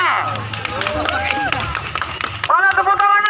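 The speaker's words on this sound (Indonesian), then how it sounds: "Tepuk tangan dulu buat Pak Kakak Indah" An outdoor crowd at an outbound jumping event on Mandeh island, West Sumatra, claps in a quick patter of hand claps under steady talk and cheering voices, fairly close and moderately loud.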